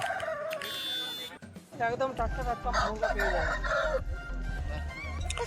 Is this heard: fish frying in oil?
no